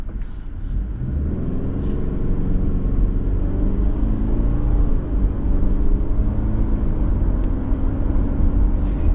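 2025 Subaru Forester accelerating in S mode, heard from inside as a steady engine drone rising gradually in pitch with road rumble underneath, loud and continuous with no talk.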